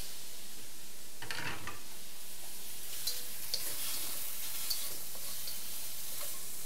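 Shrimp fries in oil in a pan with a steady crackling sizzle and occasional stirring scrapes, close and moderately quiet, with no speech.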